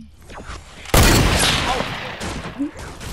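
Bursts of video game gunfire, a sharp loud volley followed by ongoing rattling shots, with a few fainter voice-like sounds mixed in.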